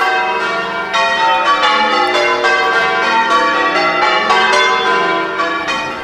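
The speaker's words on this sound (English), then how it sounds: "mark the removal of the 8 bells and ring the changes for the last time in Bollington" Eight church bells in Bollington rung by bell ringers for their final peal, a continuous dense wash of overlapping bell strikes, loud and resonant throughout with no talk.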